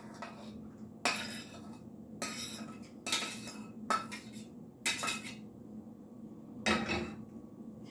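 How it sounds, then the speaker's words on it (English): Fish goes into a baking pan in a home kitchen for a flounder stew: a run of sharp metallic clanks and scrapes of pan and utensils, spaced irregularly and fairly close, with quiet gaps between and no talk. "I'm going to put it in a baking pan."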